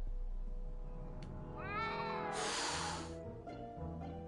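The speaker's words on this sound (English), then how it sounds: "Where is this cat?" A cat meows in the Back to the Future video game, giving a drawn-out, rising and falling cry at moderate loudness. Steady background game music plays underneath.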